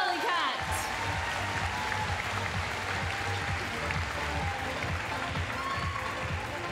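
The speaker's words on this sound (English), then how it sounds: "Give them a round of applause." Audience applause for costume contest entrants at MINECON 2013, a Minecraft convention, rising quickly into dense, steady clapping from a large crowd that holds for several seconds.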